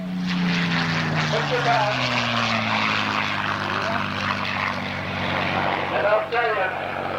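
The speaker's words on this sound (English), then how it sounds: "The Spitfire, it really sings with the Merlin engine." Spitfire with a Merlin engine flying at an airshow over Geneseo, New York: a loud propeller drone whose pitch slides down as the warbird passes, with someone talking over the engine.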